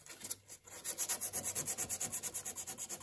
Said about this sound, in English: I like to just take some sandpaper and take that shelf out.